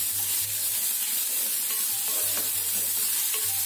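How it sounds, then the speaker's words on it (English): Onions frying in a pan for misal pav, a bright continuous sizzle with soft stirring scrapes and a low intermittent hum in the background. "We'll fry the onion. Till it is brown in color."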